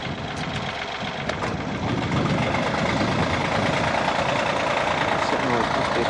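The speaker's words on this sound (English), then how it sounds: "Must be a tractor somewhere." A tractor engine runs somewhere nearby, its steady low rumble and knocking drone continuous throughout, blended with broadband wind-like noise.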